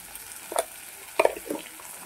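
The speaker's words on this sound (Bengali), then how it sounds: "এটা 30 সেকেন্ডের মতো আমি নাড়াচাড়া করে নেব, আর সামান্য লবণ দিয়ে দেবো যাতে টমেটোটা ভালো করে সিদ্ধ হয়ে যায়।" Tomatoes sizzle softly in a pan with a little salt while a spoon stirs them, giving a few brief, faint scraping clicks over a low frying hiss.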